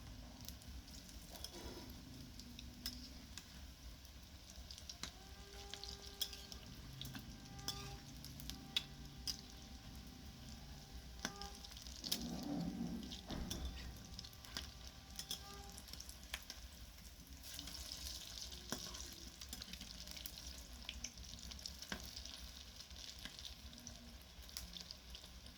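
Chicken pakoras deep-fry in oil with a faint, continuous crackling sizzle, plus soft ticks and occasional clinks throughout.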